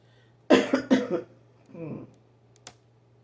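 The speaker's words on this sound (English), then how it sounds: "had to cough again." Two sharp coughs close to the mic, then a softer throaty sound and a faint click, over a low steady hum.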